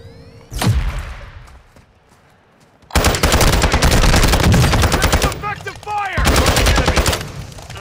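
Gunfire in the Warzone 2 shooter game: a sharp shot, then long bursts of rapid automatic fire, loud and close, with brief pauses and some voices mixed in.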